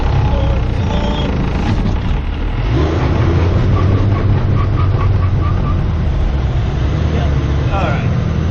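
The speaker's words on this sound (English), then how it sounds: "Alright, going up first gear." A 1996 12 Valve Cummins diesel truck with 314,000 miles strains uphill in first gear towing a 37-foot camper, a loud, steady low engine drone inside the cab with someone speaking over it.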